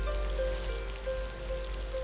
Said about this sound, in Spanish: La lluvia nace del bosque y acaba volviendo a él torrencialmente durante días enteros.